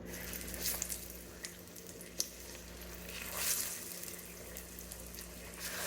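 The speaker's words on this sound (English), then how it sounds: "take a little bit of breading, throw it in, and if it sizzles like that, it means it's ready to go" Breading crumbs sizzling in hot frying oil for keto coconut shrimp, a steady soft crackle and hiss with a few sharper pops, close and moderately quiet, no voices.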